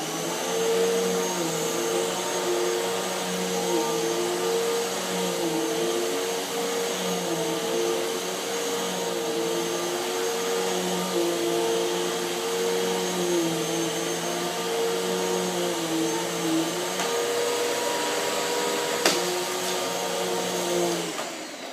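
A Hoover Windtunnel T-Series vacuum cleaner runs over carpet with a continuous, fairly loud motor whine that wavers slightly in pitch as it moves, heard close and alone without talk.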